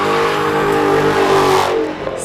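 Supercharged Dodge engine with a whining blower, revving hard and loud for the whole stretch, a steady high roar that eases slightly near the end.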